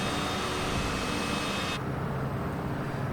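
A Cessna Citation CJ4 business jet in flight gives a steady broadband roar heard from inside, constant and moderately loud, with the upper hiss dropping off abruptly halfway through.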